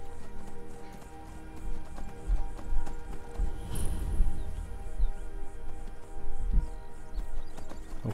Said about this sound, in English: Oh, Horsey is running.